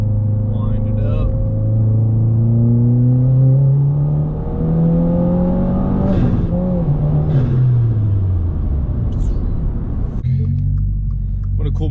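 2022 Subaru WRX with an AWE Track exhaust pulling hard in third gear, a loud, close, rising engine note that climbs steadily, then breaks off and settles to a deep burble, with a person talking over it.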